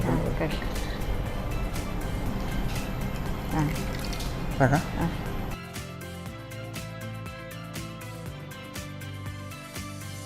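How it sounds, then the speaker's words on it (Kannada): Water is poured into a cooking pot while bottle gourd payasa is being made, a wet filling sound running under steady kitchen talk before dropping to a quieter background. "ಸ್ವಲ್ಪ ನೀರು ಹಾಕಿ."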